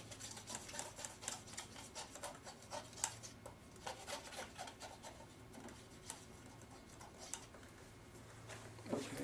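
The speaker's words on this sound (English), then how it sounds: "So I'm just taking the Q-tip in there, got a little contact cleaner going on in there." Q-tip with contact cleaner rubbing inside a corroded NES 72-pin connector, giving faint, close scratchy rasping strokes in a quick irregular rhythm.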